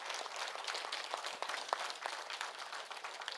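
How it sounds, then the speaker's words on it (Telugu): An audience at a district meeting applauds in a dense, fairly steady patter of many hands clapping together, moderately loud and heard from a little distance, with no voices over it. "హనుమంతరాజు గారి బృందానికి గట్టిగా చప్పట్లతో అభినందించాలి"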